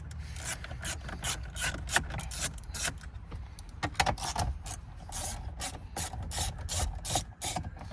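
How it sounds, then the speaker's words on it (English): A 10mm ratchet undoes the stereo mounting bolts inside a 2014–2015 Toyota Hilux N70 dash, giving a steady run of close, rapid clicking and rasping strokes with no talking. "you're just gonna use a 10mm ratchet to quickly undo those"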